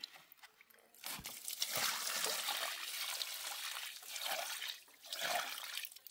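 Water trickles and splashes onto soil and plants in a vegetable garden, a steady hissing stream that swells and eases in a few uneven bursts after a quiet start, close by and alone.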